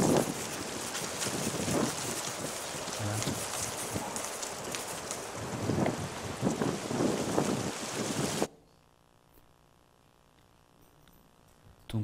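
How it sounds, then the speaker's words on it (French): Strong wind gusts through falling leaves outdoors, a loud, steady, rushing roar that buffets the microphone for several seconds, then cuts off abruptly into near quiet. "il y a un vent qui passe, qui est tellement fort, il y a beaucoup de feuilles qui sont tombées"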